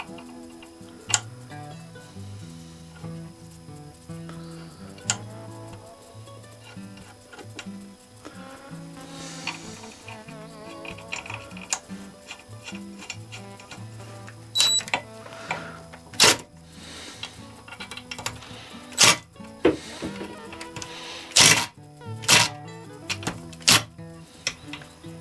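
Bolts being fitted during reassembly of a Mercury Mark 10 outboard motor, heard as scattered metallic clicks and taps that grow sharper and more frequent toward the end, with a musical background throughout.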